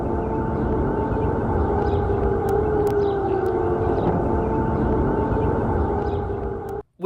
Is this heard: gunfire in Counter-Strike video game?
no